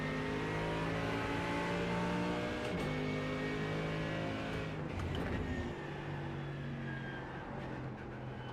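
Race car engine in the iRacing simulator drones steadily at high revs, with shifting pitch as it accelerates and lifts, loud and continuous with no talk.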